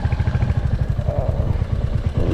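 A heavy Royal Enfield Hunter 350 motorcycle engine thumps at close range with a steady, rapid low pulse while off-roading on rough hill terrain.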